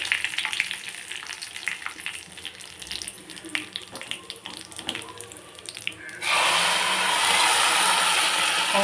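Cashews, pepper and curry leaves frying in hot oil as a tempering for venpongal, crackling and popping in short bursts, then giving way to a loud, steady hiss for the last few seconds.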